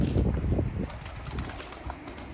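Mardin pigeons taking off from a rooftop early in the morning, a burst of close wing flapping at the start that settles into lighter fluttering and faint background noise.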